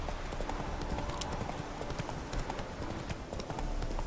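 A horse gallops in a video game with steady, fast clip-clop hoofbeats that continue throughout, close and moderately loud over a busy background.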